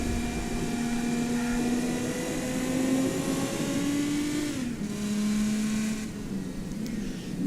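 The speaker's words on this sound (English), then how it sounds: "Full throttle in 5th gear" Engine of the BattleAxe V200 car in a video game, held at full throttle in fifth gear, droning steadily with a rising harmonic tone, a brief dip like a shift near the middle, loud and continuous with no talk.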